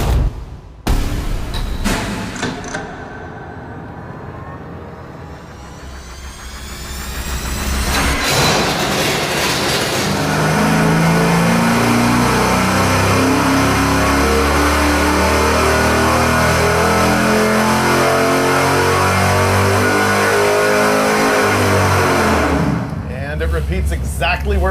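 A 410 engine on a dyno fires up with sharp starter bursts, settles into an idle, then roars in a long, loud, sustained pull as the revs climb, ending abruptly, with brief talking at the start.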